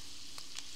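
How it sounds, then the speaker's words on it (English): Garlic sizzling in butter in a cast iron skillet, a soft, steady frying hiss with a couple of brief crackling pops, fairly faint and close, no voices. "Here is our garlic sizzling in the delicious butter in the cast iron skillets"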